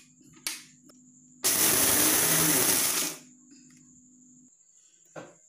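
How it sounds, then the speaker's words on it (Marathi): A mixer grinder whips sugar and coffee into foam in one loud whirring burst of almost two seconds, with a low hum and faint clicks before and after. "मी आता हे 2-3 वेळा असं फिरवून घेतलेलं आहे मिक्सरमधून"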